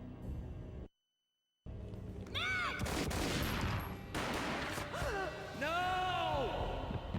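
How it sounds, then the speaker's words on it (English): A gunshot booms in the Max Payne video game amid dramatic slow-motion action, with sharp impacts, gasping and swooping game sounds around a brief silent gap. "A gunshot boomed and she fell down in slow motion."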